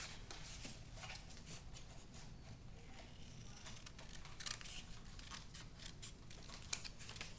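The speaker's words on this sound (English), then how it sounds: "And so we're going to cut that out." Scissors cutting paper tangram pieces, a quiet run of steady snipping and rustling close by, with a couple of sharper clicks.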